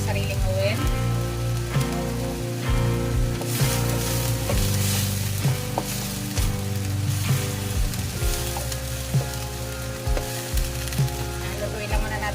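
Onion frying in a little oil in a pan for beef giniling gives a steady, close sizzle with crackling pops throughout, loud and continuous, with faint clinks of stirring.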